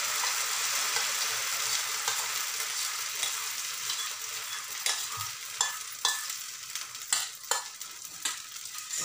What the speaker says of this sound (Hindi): ये उत्पम का बैटर, अब इसको धीरे से डाल देते हैं इसमें।